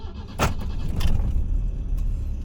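Starter cranking on a BMW M10B18 engine fitted with an auxiliary air valve, catching with a couple of sharp mechanical clicks and settling into a steady, close, rumbling idle.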